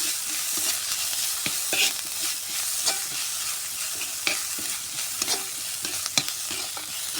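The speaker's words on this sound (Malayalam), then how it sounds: "നമുക്കിതിലേക്ക് നമുക്ക് നല്ലോണം ഇളക്കി കൊടുക്കട്ടോ." Soya roast sizzles steadily in a frying pan while a spoon stirs it, with repeated scraping clicks against the pan over a constant frying hiss.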